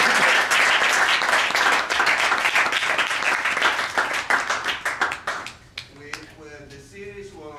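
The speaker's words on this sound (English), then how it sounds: "can you please join with me in applauding the Consul General?" An audience at a lecture on EU debt claps for the Consul General, dense applause that thins into scattered individual claps and dies out near the end.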